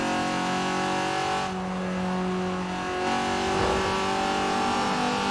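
A BMW E30 engine drifting in the Forza Horizon 4 video game: a steady, loud engine drone with sustained harmonic tone that shifts pitch slightly, with faint tire noise and no talk.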